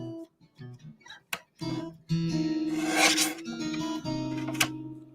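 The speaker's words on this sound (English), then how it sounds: "so I'm going to trim this down fairly thin here" Paper card stock being trimmed for a rainbow Valentine's Day card, a close, soft rasping scrape that runs in short bursts and then a longer continuous pass.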